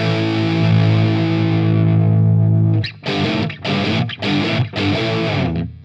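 An electric guitar runs through an Ibanez Soundtank CM-5 Classic Metal distortion pedal, a long sustained distorted chord giving way to four short, choppy chugged bursts with brief gaps, loud and up close.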